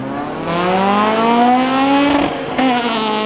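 A Mustang drag car launching at Oxford Plains Speedway spectator drags, its engine roaring loud and close, pitch climbing steadily through a gear, with a brief drop and another surge near the end.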